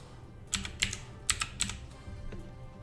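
Computer keyboard keys tapped in short clusters while numbers are entered into a calculator, about six crisp clicks in two quick pairs and scattered singles, close and fairly soft in a quiet room.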